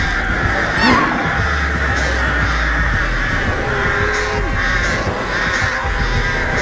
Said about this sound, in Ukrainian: Які ворони, бляха?